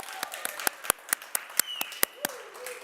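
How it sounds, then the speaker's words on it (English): Sparse applause for award nominees at an aging awards ceremony, a handful of distinct, evenly spaced claps, with faint voices audible between them. "let's give another round of applause for all of our 2021 nominees and recipient class"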